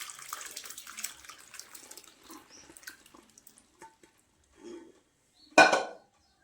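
Water being poured and drained off freshly made paneer, a run of soft trickling and splashing followed by a brief louder gush near the end, close and otherwise quiet.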